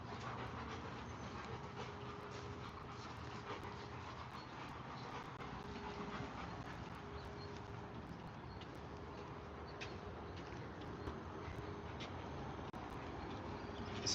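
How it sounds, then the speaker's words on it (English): Small dogs panting steadily, a soft, rapid breathy rhythm that runs throughout against a constant low background rumble, with no talk. "It's all little dogs around here."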